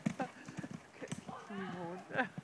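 A horse's hooves clip-clop steadily while it is ridden along a woodland trail, close by, with people talking over the hoofbeats and a drawn-out tonal sound near the end.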